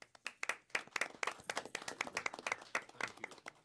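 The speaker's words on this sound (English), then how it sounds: "I think we ought to give you a round of applause" A small group claps at a Pitt County Board of Commissioners meeting, a round of applause of sparse, distinct handclaps in an uneven rhythm, fairly quiet and close, with no talking.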